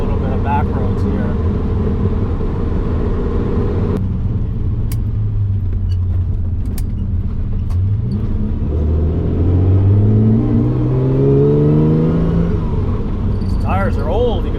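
An old carburetted car driving on back roads, its engine rumbling steadily from inside the cabin, pitch rising and falling as it accelerates and shifts, with speech heard over it.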